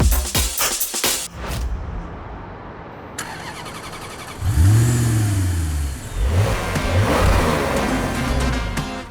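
A BMW M4 in a launch color cranks and fires up, its engine catching after early clatter and settling into a loud, close idle with several sharp rising and falling revs.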